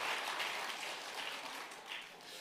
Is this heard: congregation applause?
yes